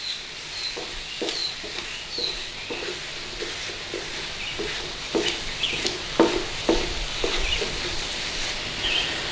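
Corned beef hash cooks in a pan with a soft, steady sizzle, marked by repeated scraping and stirring strokes, close and moderately quiet, with no talk.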